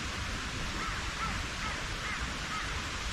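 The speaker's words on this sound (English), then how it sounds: "Crows are going nuts again." Crows caw faintly here and there over a steady broadband hiss, with no voices; the calls sit low in the mix rather than close by.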